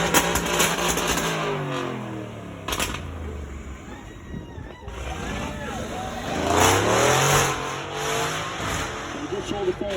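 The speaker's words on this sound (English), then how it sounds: "beautiful car, incredibly loud. So you've got that AMG sourced V8 at the front with a one-off titanium exhaust." A car with an AMG-sourced V8 and a one-off titanium exhaust roars past at a supercar drive-by event, its engine swelling and fading twice, very loud with crackling revs, while a voice talks over it.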